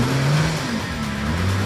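An off-road truck engine working slowly on a steep, off-camber hill section at a Tuff Truck Challenge, a steady loud drone with slight pitch shifts, close and continuous for under two seconds.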